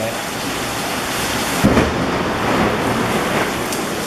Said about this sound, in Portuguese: estão vendo que a chuva tá forte, hein?